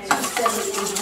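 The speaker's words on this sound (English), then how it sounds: "And this is going to get mixed into the potato and onion mixture with my hands" Grated potato and onion mixture for latkes squished and mixed by hand in a bowl, a quick run of wet, squelchy pats and sloshes close up.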